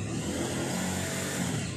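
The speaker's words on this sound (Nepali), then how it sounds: "अनुजले बाइक स्टार्ट गर्नुभएको छ तला, बिचारो मसँग बाइकको आवाज सुन्नुहुँदैछ" A motorbike engine runs and revs in a steady, loud, continuous drone, close by and alone with no talking.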